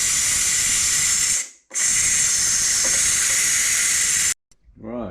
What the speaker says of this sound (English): So you just move that over from seal to vent.